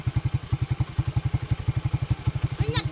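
A nearby motorcycle engine runs at low revs on a rural mountain trip, giving a rapid, even, throbbing putter that carries on steadily throughout, with a brief higher chirp near the end.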